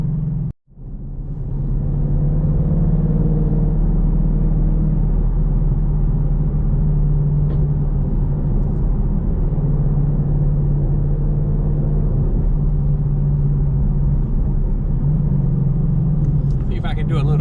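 A 2024 Ford Mustang GT cruising on the road, its engine producing a steady, loud low rumble heard from the cabin for the whole stretch, with a person talking over it.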